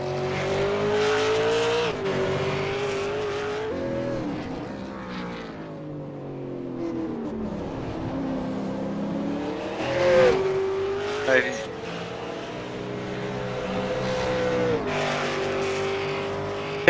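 A V8 Supercar on a flying lap at Interlagos: the engine howls through rising and falling gear changes, with short tyre squeals on the corners, while a commentator talks over it throughout.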